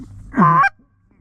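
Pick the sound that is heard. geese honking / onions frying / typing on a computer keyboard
geese honking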